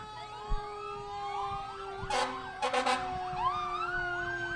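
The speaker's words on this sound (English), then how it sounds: "Chief's car, followed by Engine 3, followed by the Dunkirk ladder truck." Parade sirens from Dunkirk City Fire Department vehicles at a Memorial Day parade in Dunkirk, NY: the chief's car, Engine 3 and a ladder truck. Several wailing sirens rise and fall over one another, with sharp air-horn blasts in the middle.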